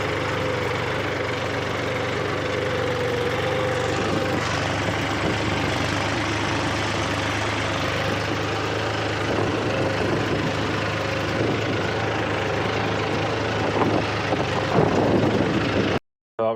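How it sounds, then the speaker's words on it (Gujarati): A tractor engine drones steadily at close range while pulling a harrow across a farm field, a constant low, even rumble with no talk, cutting off abruptly at the end. "તો આપણે જો ટ્રેક્ટરની દાંતી મારવા આવી ગયા"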